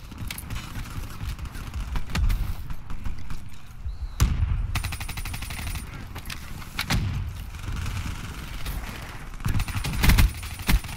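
Loud automatic gunfire in Call of Duty Black Ops 3 rattles in several sharp bursts as a full 20-round magazine is emptied, with reload clicks and game effects between them.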